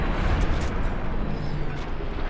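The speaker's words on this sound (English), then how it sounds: "Okay, that one exploded." A loud, dense explosion rumble from an energy weapon in the video game Fallout: New Vegas fills the whole stretch at a steady level, with no sharp onset.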